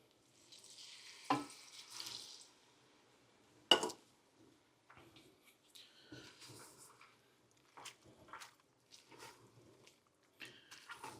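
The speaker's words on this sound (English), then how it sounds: "So let's go ahead and pour a cup of broth in there." Broth is poured into a hot pot of flour roux for shrimp chowder, a brief sizzling hiss rising then fading, followed by faint stirring and clinks of utensils against the pot.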